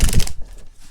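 A deck of all-plastic Rider tarot cards is shuffled, a quick close flurry of slick riffling clicks that fades out after a fraction of a second.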